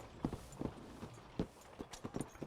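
Horse hooves clip-clopping in Red Dead Redemption 2, a steady walking rhythm of soft, close hoofbeats on the ground, fairly quiet and with no talk over them.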